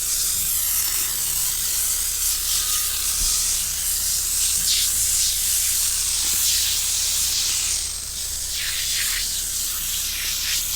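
Aerosol spray can let off in one long, continuous blast, a loud, close, steady hiss that holds for the whole stretch with slight surges and dips and no talk over it.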